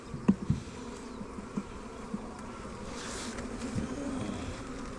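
Honey bees buzz steadily around an opened hive during a farm inspection, a continuous close drone with a few sharper knocks and bumps near the start.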